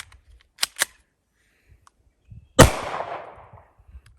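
A Hi-Point C-9 pistol is fired one-handed outdoors: two quick light pops, then a single loud close shot with a long ringing decay, and a few faint small knocks after.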